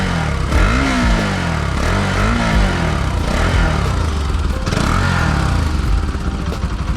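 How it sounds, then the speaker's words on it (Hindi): A Bajaj Pulsar RS200 motorcycle with a modified exhaust starts up and settles into a deep, loud, throaty idle with a few rising revs, close by and alone throughout. "अभी करते हैं अपनी बाइक को स्टार्ट। ओ भाई साहब ऐसे यार मोटी साउंड आ रही है"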